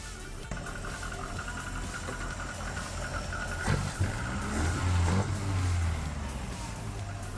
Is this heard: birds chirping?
no